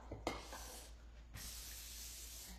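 Two short hissing bursts of cooking oil spray onto plastic wrap laid over rising bread dough, the first brief and the second longer and steady, close by with a low hum underneath.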